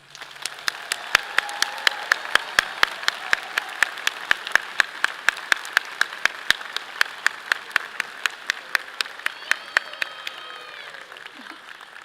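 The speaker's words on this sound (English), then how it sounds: "Please join me in a round of applause as we congratulate today's graduates." Applause for graduates at a graduate school commencement ceremony, starting as a thin scatter and building into steady crowd clapping, with sharp repeated claps near the recording point standing out above the crowd.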